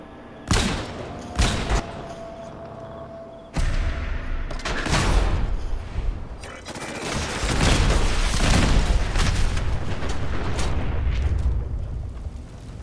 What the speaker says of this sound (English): He has an artillery piece.